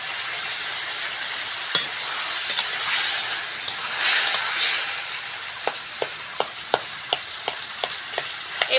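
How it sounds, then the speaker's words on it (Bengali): Boiled tomatoes are stirred and mashed with a spatula in a pan for a Bengali chutney, a low sizzling wash with a burst of heavier scraping midway, then a run of regular sharp taps against the pan. "টমেটোগুলো খুন্তি দিয়ে ঘেটে ঘেটে দেবো"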